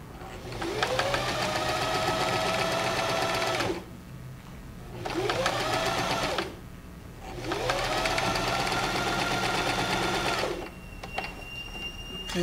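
A sewing machine stitches a patchwork block in three long, steady motorized runs separated by short pauses, loud and close with no talking.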